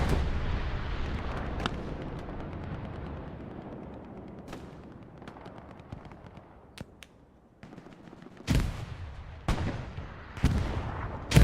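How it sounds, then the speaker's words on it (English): Grenade blasts in the Hell Let Loose shooter: a long rumbling explosion tail fading at the start, then several sharp, loud detonations and crackling bursts clustered near the end, with scattered distant gunfire between. "L9o just trying to throw perfect grenades, just unfortunately not landing them on the players or the spawns."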